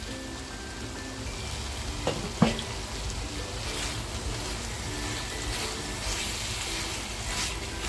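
Masala gravy for dhaba-style tandoori chicken tikka masala fries steadily in a pan, a soft continuous sizzle with a couple of brief clinks from a utensil.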